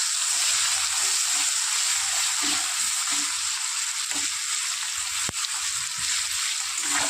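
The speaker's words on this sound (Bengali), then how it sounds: "এবার দিয়ে দেবো পেঁয়াজ কুচি" Chopped onion sizzles in hot oil, a steady close frying hiss with occasional stirring clicks and one sharp scrape, and no talking.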